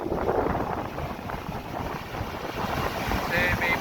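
Waves surge against fishing boats at a boat shelter during a storm, a continuous loud wash of water and wind buffeting the microphone, with a voice speaking briefly underneath.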